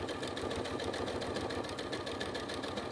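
A sewing machine stitches a wavy zigzag on crazy patchwork fabric, a steady rapid mechanical chatter with a fast needle rhythm that runs continuously at moderate volume without pause or talk.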